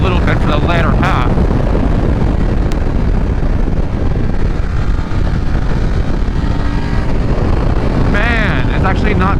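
A BMW F 750 GS motorcycle accelerating hard under throttle, its engine a steady loud drone mixed with heavy wind rush, with a rider talking briefly at the start and end.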